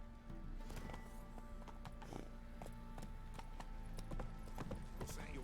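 Horse hooves clip-clop steadily in a fantasy video game where a witcher rides, a rhythmic trot under faint mechanical clatter and background game sound.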